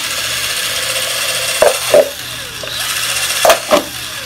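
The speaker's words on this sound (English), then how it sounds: "I'm going to drill into this container." A power drill bores into a plastic container at a pond, giving two pairs of short whirring bursts with pauses between, close and fairly loud over a steady background hiss.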